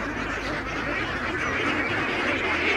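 Many ducks at a village market in Bangladesh quack in a dense, continuous chorus close by, with a faint murmur of people in the background.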